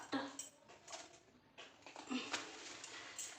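Dishes and pots being scrubbed and rinsed after cooking, with oily, spice-stained utensils clinking and scraping at close range in irregular bursts over running-water hiss, and a voice talking intermittently.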